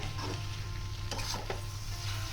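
Ridge gourd and shrimp stirred and fried in a pan, a low steady sizzle with a few spatula scrapes near the middle, close and quiet, with no talk.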